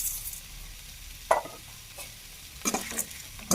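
Roasted horse gram is stirred in a frying pan with a spoon, giving a few scraping, rattling strokes over a soft sizzle. The strokes come in irregular bursts, close by, with no voices.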